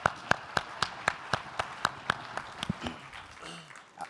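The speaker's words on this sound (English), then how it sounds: "one last round of applause for Stipple." Audience applause at a 2014 advertising-industry startup showdown event, heard as a steady run of sharp, close claps that thins out and fades toward the end.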